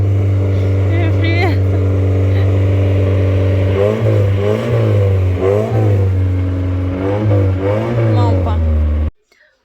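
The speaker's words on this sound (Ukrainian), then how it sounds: "Наш татко завів машину нашу." A family car's engine runs at a steady idle and then revs in several rising and falling surges before cutting off abruptly near the end.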